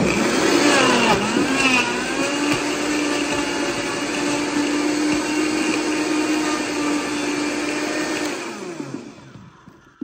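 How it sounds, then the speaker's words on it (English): A Vitamix blender with its dry container grinds clumped flour, a loud, sustained whirring roar that holds steady for several seconds, then winds down and trails off near the end. "I use my Vitamix. This is super loud, so be ready."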